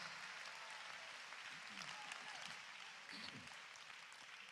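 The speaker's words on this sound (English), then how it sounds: "Clap your hands again." A congregation at a worship service claps and cheers in a faint, distant, continuous wash of applause, with voices calling out among it.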